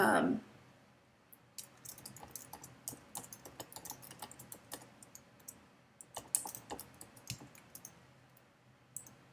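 Someone types on a computer keyboard while adding text in Photoshop Elements. Close, crisp key clicks come in quick irregular bursts with short pauses, and the room is otherwise quiet.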